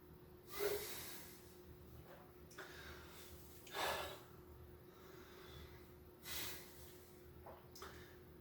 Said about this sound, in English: you may hear me actively breathing, trying to avoid the breath hold.